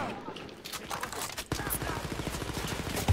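Guns firing in Wolfenstein: Youngblood, a dense, rapid stream of shots that gets heavier partway through and continues to the end, with a player speaking over it.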